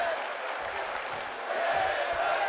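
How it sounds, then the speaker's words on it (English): A wrestling arena crowd in WWE 2K25 keeps up a dense roar of voices and applause-like noise. Individual chant words are not distinct. "Hear the crowd chanting women's wrestling, women's wrestling."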